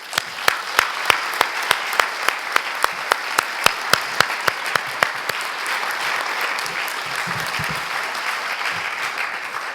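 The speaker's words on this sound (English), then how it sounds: "So please, a round of applause for everyone who spoke." An audience applauds the speakers at a Bellingham town hall on affordable housing in June 2017. A few sharp, evenly spaced claps come first, then they swell into loud, dense, sustained clapping from the whole room.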